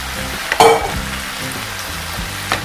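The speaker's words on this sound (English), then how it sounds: "Give it a quick saute. So we're adding all our garlic chives as well." Garlic chives and green leafy vegetables sautéing in a pan, a brief sharp sizzle flaring early and then settling into a low, steady frying crackle with occasional stirring clatter, close and moderately loud, no voices.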